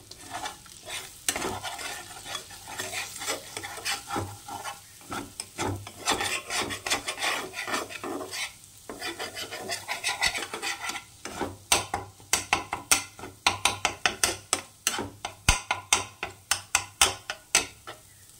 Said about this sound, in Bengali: ডিমটা দিয়ে দিলাম, উপর থেকে সামান্য একটু লবণ ছড়িয়ে দিলাম, দিয়ে এখন ঝুরো ঝুরো করে নেব ডিমটাকে